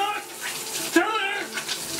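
Water rushes hard and steadily out of a single-handle Price Pfister shower and tub valve with its cartridge removed, a continuous close gushing hiss that fills the whole stretch.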